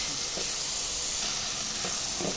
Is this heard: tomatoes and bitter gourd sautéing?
yes